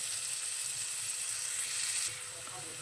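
Radish pieces frying lightly in a little oil for a spinach curry, a steady soft sizzle throughout that eases slightly near the end, with no voices.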